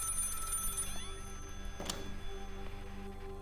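A telephone rings from somewhere behind the listener in the horror video game Maid of Sker, a steady electronic bell over a low droning ambience, with a sharp sweeping burst near the middle.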